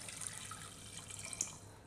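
Water is poured into a simmering cooking sauce with chicken stock for a fish gratin, giving a soft, continuous trickle and splash heard close up but quietly, with no talking.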